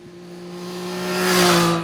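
A Triumph Street Triple 765 RX three-cylinder motorcycle engine revs up close and loud, a steady droning tone that swells and climbs in pitch over about two seconds, with no voices.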